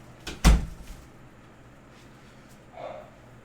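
A car door shuts with a single loud thump close by, followed by quiet and a faint noise near the end.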